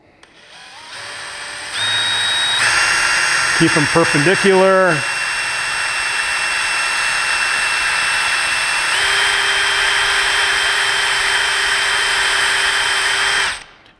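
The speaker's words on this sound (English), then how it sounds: "Now we're going to pre-drill." A power drill whines loudly and steadily while pre-drilling a hole for a rimlock, its pitch shifting as it bites into material; a voice speaks briefly early on.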